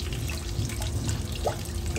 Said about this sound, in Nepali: पानी राख्न गइरहेकी छु।